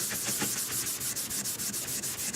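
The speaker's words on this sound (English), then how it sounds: "Now I'm going to go back over here and I'm going to start buffing this." Aging wax is buffed on a surface by hand, a steady rapid rubbing swish in even repeated strokes, close and moderately loud, with no voices.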